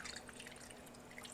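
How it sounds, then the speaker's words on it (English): Club soda poured over ice into a whisky highball glass: a soft continuous fizz and trickle with faint crackling bubbles, close and quiet. "we're going to take our soda, our club soda, we're going to go ahead and pour it on top."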